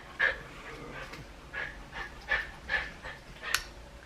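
An indoor dog pants in quick, rhythmic breaths, with faint whimpers and snorts mixed in, close to the microphone and alone with no talking.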